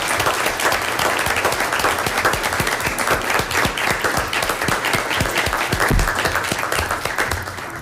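An audience at a city council meeting in Lakewood gives sustained, dense applause, with many hands clapping at an even level from start to finish.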